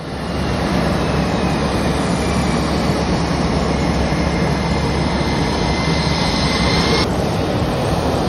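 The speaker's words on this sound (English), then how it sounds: "A stunning footage of these F-18's lining up for takeoff." F-18 fighter jets lining up for takeoff, a loud, steady jet engine roar filling the whole stretch without letup, close by and with no voices.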